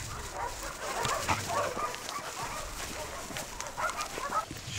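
Dogs at a stray dog shelter bark and whimper at a distance against outdoor ambience, with a brief human voice in the mix.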